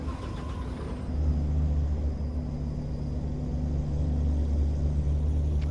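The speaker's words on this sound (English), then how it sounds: "I am driving a Volvo" A Volvo FH16 truck engine in Euro Truck Simulator 2 drones steadily at low pitch while driving in winter, a deep continuous rumble that rises in level after the first second and holds loud to the end.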